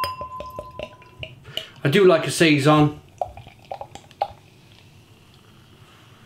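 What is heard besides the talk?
Kaapse Harrie saison beer being poured into a glass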